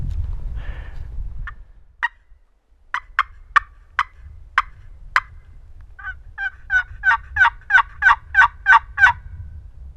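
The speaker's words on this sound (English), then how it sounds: "I thought I heard a turkey gobble in here" A wild Merriam's turkey gobbles in the open, first in a few single sharp calls, then in a quick run of repeated gobbles, clear and fairly close over a low rumble, with no voices.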